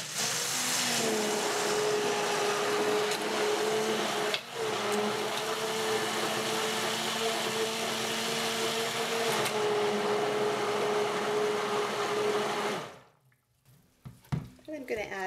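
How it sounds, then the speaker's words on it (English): A stick blender whirs steadily and loudly while mixing lye water into oils for soap, holding a constant motor hum for about twelve seconds before cutting off abruptly into near silence. "I'm just going to give it a quick blend with my a noisy stick blender."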